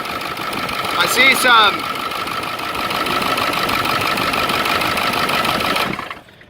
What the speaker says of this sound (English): You don't ever want to turn off a diesel engine when it's warming up